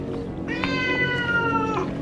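A cat meows in one long, drawn-out wail over a low background hum, close and fairly loud, in a scene from Goosebumps Monster Blood.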